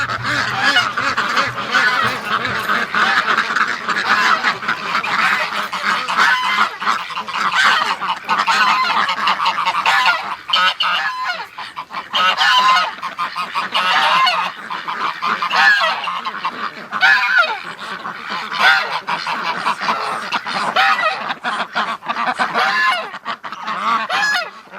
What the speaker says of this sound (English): let's let the ducks out. They're gonna come out quick.